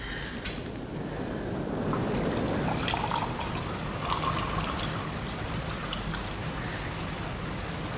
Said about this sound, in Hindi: मैं अभी लाई सुराही से पानी